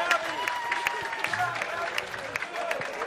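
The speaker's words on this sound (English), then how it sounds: "A little applause over there for Gabby" Scattered applause from spectators at an artistic pool tournament, a thin patter of clapping with crowd murmur, moderately loud, under an announcer's voice.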